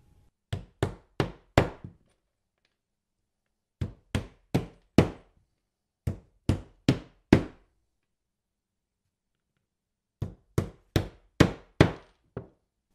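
Hammer strikes driving 4.5-inch ring shank nails through a carpet shim into the floor, loud close blows in groups of four or five with short pauses between sets, quickening as each nail seats.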